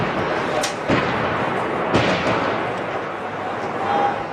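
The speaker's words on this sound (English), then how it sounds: "Shelling's been going on here all morning now" Artillery shelling strikes Baba Amr in Homs, with a few sharp, heavy impacts punching through a dense, noisy wash of background sound at close to mid range.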